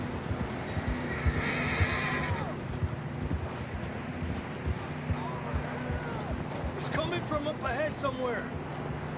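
Horses whinny and neigh in Red Dead Redemption 2, with several calls spread over a windy outdoor backdrop and a sharper burst of neighing and hoof clatter near the end.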